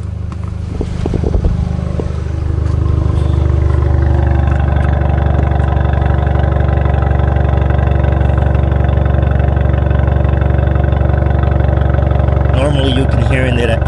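A VW MK7 GTI running on E85 fuel and suffering a misfire idles close by, its engine and exhaust giving a steady, loud droning rumble throughout.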